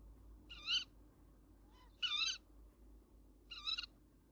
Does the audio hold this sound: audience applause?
no